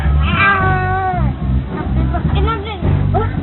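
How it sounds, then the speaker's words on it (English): A cat meows repeatedly, drawn-out rising and falling cries close by, while people talk over and between them. "The cat? Really?"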